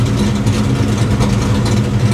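A Foxbody Mustang engine idles steadily and loudly up close, a continuous low rumble with a faint uneven lope and no voices.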